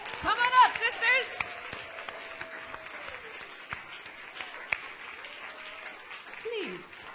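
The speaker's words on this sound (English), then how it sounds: "Everyone with a round of applause." Scattered, fairly faint audience clapping greets a success panel walking onto a stage, with voices calling and talking over the sparse claps throughout.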